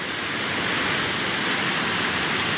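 Banjhakri Falls in Sikkim roars in a dense, unbroken rush of water, loud and steady with no other sounds.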